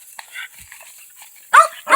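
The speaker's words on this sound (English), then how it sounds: "And I got my dog ripping my leg off here." A dog lets out two loud, sharp barks close by near the end, after a stretch of quieter rustling and faint sounds, while playfully attacking its owner's leg.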